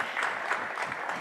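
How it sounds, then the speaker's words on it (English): An audience applauds at a Global Chess League event, with dense steady clapping from a crowd, fairly loud and continuous. "they are cheering for us"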